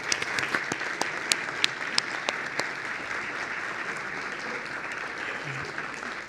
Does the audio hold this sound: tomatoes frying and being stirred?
no